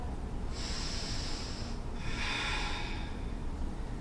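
Two deep, audible breaths during a vinyasa yoga flow, each a slow airy inhale or exhale, heard close and fairly soft with no talk over them.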